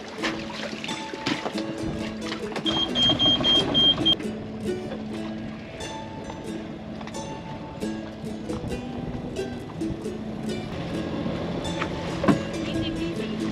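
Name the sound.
sailboat engine running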